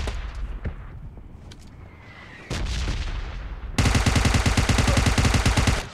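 Gunfire in PUBG's zombie mode: a few scattered shots, then a louder stretch, and finally a dense, rapid automatic burst that fills the last two seconds.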